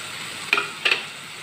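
Spice paste with chopped tomatoes frying in a pan gives a soft, steady sizzle, broken by two short scraping stirs of a spoon.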